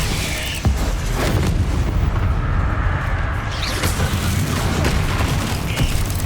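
Bombarda spell explosions and combat blasts in Hogwarts Legacy, loud, dense booming impacts layered over continuous battle noise throughout, with sharp bursts near the start and end.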